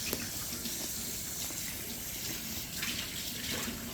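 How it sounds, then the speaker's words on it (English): Tap water runs steadily into a mixing bowl as it is rinsed of leftover flour, egg and butter, a soft continuous splashing hiss with slight surges, fairly quiet and close, no talking. "I'm going to give this bowl a quick rinse, just to get any residual flour, eggs, butter out of here"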